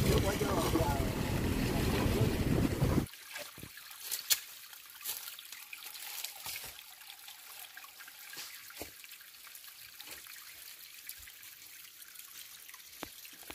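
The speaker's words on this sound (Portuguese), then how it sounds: "E a nascente da água escorrendo lá pra baixo" Spring water trickling downhill over rocks, a faint, steady, thin flow with scattered drips and splashes. It follows a brief burst of loud, broad noise at the start.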